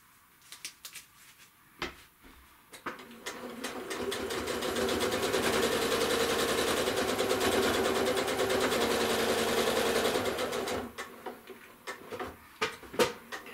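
A sewing machine stitches a chevron quilt in one sustained whirring run of several seconds, preceded and followed by a few short clicks and taps of handling the fabric, fairly close and clear.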